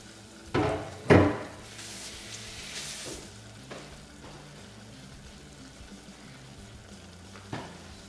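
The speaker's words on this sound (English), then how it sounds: "Hear that sizzling?" Vegetables (the onion, celery and pepper trinity) hit a hot roux in a pan with a couple of loud thumps, then a steady sizzle and frying crackle continue with occasional stirring knocks.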